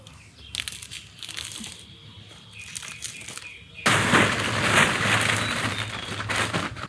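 Faint background murmur, then a loud, steady gritty crushing and grinding as garlic cloves are pounded on a stone grinding slab, continuing to the end.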